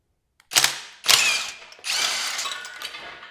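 A hand ratchet works on the final bolt while the V12 engine of a Mercedes S65 AMG is being removed, sounding as three loud, close bursts of rapid clicking, the last one longer.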